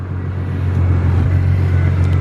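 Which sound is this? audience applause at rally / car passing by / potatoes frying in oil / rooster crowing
car passing by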